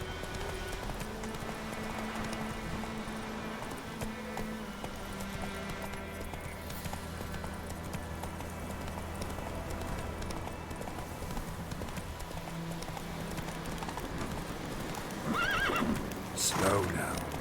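Roach the horse in The Witcher 3 gallops with a steady hoof rhythm under game music, breaking into loud neighs near the end, while a voice talks over the action.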